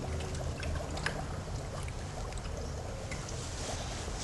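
Garden hose water running slowly into the radiator of a Plymouth Breeze during a flush, a steady low pouring and trickling rush with a faint hiss, continuous throughout.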